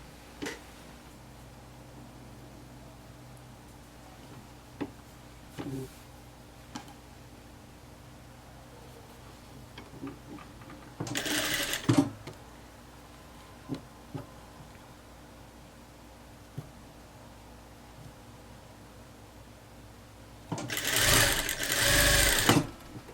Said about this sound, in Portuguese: Agora eu vou costurar a outra parte.